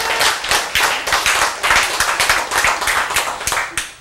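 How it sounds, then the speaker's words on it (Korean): An audience in a lecture hall claps together in a steady, rhythmic beat, loud and close, and keeps it up evenly without any talking. "박수!"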